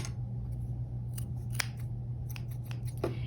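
Scissors snip through lengths of yarn in a quiet indoor craft setting, with several short, crisp cuts spaced irregularly over a low steady hum.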